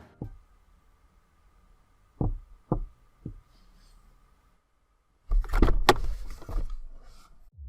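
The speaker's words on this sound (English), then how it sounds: "The closed captions for this section describe the noises in the background as Paul knocking on glass and a car door opening." Knocking on glass in Petscop game audio, three sharp isolated taps spaced about half a second apart over a faint hum, then a louder burst of clattering noise.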